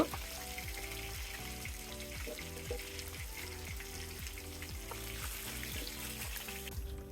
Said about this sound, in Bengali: মাছগুলোকে আমি ভেজে নিয়েছি এবার উঠিয়ে নেব